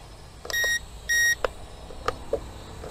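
Two crisp electronic beeps come from an ATTOP W10 WiFi FPV camera drone in flip mode, followed by a few small clicks and handling taps nearby.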